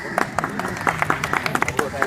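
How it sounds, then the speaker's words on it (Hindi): A class gathered for toppers, including a Bihar Police exam topper, breaks into a short burst of brisk, scattered clapping from a small group, heard fairly close and mixed with murmuring voices. "ताली हो जाए।"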